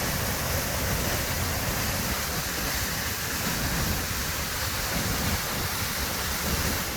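Constant roaring rush of falling water, a broad steady wash of noise with no breaks, from Chilnualna Falls in Yosemite National Park heard nearby.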